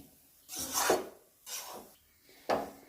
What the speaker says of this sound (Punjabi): ਆਪਾਂ ਇਹਨੂੰ ਹਲਕੇ ਹਲਕੇ ਹਿਲਾਉਂਦਾ ਜਾਣਾ ਵਾ ਕਿਉਂਕਿ ਇਹ ਜਿਹੜਾ ਆਪਣਾ ਆਟਾ ਵਾ ਉਹ ਥੱਲੇ ਨਾ ਲੱਗ ਸਕੇ